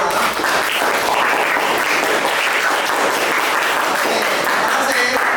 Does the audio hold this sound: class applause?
yes